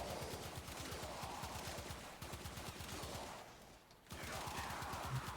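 Rapid automatic sniper rifle fire from the Knell Prime in Warframe, a fast, evenly spaced stream of sharp shots that runs continuously, pauses briefly near the end, then resumes just as fast.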